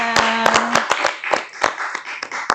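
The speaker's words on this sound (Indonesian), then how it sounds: "Oke, tepuk tangan dulu dong teman-teman." Studio hosts of an Indonesian news show clap their hands, a quick run of sharp, uneven claps at close range over a couple of seconds, with a faint tone behind them.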